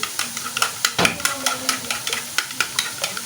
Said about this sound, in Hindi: और इसके अंदर ये दही डालूंगी मैं